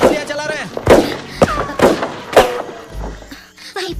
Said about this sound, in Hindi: वो हम पर गोलियां चला रहे हैं।